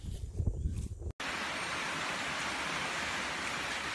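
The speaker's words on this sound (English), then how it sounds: "Good rainy morning, everyone." Rain falls on a rainy morning in Panama as a steady, dense hiss, close and continuous, after a short burst of other noise at the start.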